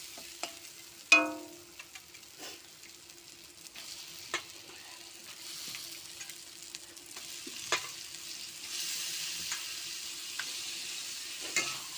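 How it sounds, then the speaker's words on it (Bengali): Small fish with onion and spice paste frying in a pan for a Bengali fish curry, a soft continuous sizzle broken by occasional sharp utensil knocks and scrapes as it is turned. "নাড়াচাড়া করে চাপা দিয়ে দেবো।"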